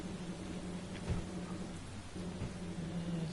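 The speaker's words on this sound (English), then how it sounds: "Ah, going back out in the rain." Rain with rumbling thunder in a video game set on a survival world: constant patter of rain under two low thunder rolls, fairly faint overall.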